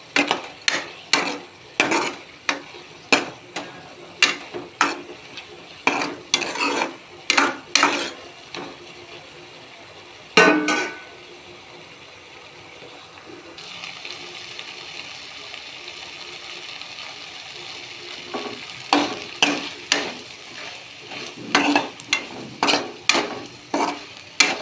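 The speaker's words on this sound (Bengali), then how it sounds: "চিনিটা দিয়ে ভালো করে একটু নাড়াচাড়া করব।" A spatula stirs sugar into a Malabar spinach curry cooked with fish oil in a pan, making sharp, rhythmic scraping clacks in quick bursts, then a quieter pause with a low sizzle before the clattering strokes resume.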